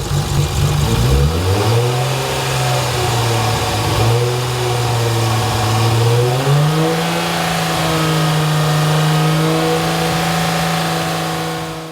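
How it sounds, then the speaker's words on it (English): A Nissan Skyline RB engine revs up from idle, then settles into a held, wavering mid-pitched drone with small rises and dips, loud and close, with no talking. "Mike's just gonna give it a little bit of a rev a minute."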